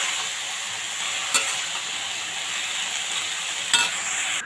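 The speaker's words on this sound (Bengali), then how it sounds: "আমি এটাকে সুন্দর করে নাড়াচাড়া করে দেবো আর পরিমাণ মতো নুন আর হলুদ দিয়ে দেবো" Radish pieces sizzle in a pan on the stove, a continuous even frying hiss with two sharp clanks of a spatula stirring against the pan, close and steady, no voices.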